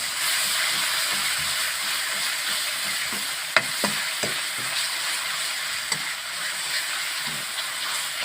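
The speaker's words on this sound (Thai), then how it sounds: "น้ำมันร้อนใส่กระเทียมลงไปก่อนนะครับผัด ตามด้วยพริกแกงครับ" Garlic and red curry paste stir-fried in hot oil for a northern Thai frog dish, a steady close sizzle and hiss with a few sharp clinks of the utensil against the pan, no voices.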